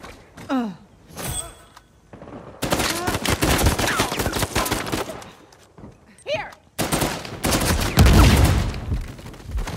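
Bursts of rapid automatic gunfire in the video game Uncharted 4, heavy thumping shots in long volleys, separated by short gaps where a voice talks briefly.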